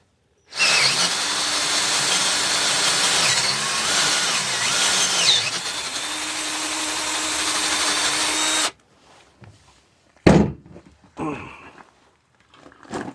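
A handheld power drill drives a thread tap into a hole in a truck part, whining loudly and steadily for about eight seconds before stopping, followed by a few short clunks and handling noises.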